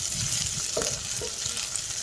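Chopped onions hit hot ghee in a pan while cooking chicken pulao, producing a steady close sizzle with a couple of soft stirring scrapes.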